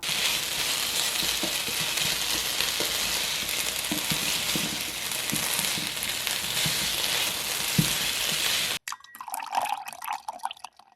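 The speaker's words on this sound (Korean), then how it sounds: "볶은 양파와 섞으면서 감자에 양파향을 코팅해 주시고요" Potato pieces fry and hiss steadily in a pan with sautéed onions, seasoned with salt, thyme and chili flakes, while a spatula clacks and scrapes through the stir before the sizzle cuts off near the end.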